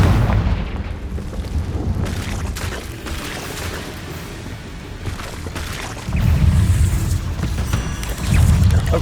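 Confringo blasting spells explode in Hogwarts Legacy as a run of heavy booms and crashes over a low rumble, with louder blasts near the end, close and punchy, with no talk.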